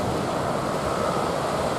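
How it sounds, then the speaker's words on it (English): Ocean waves wash over and pile up stones on a beach at Andøya, Norway, making a steady, unbroken rushing roar with some wind noise and no voices. "So all the stones are being piled up by the waves."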